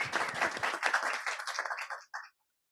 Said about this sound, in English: a big applause to the speakers